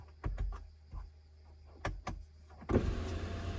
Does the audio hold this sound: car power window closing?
yes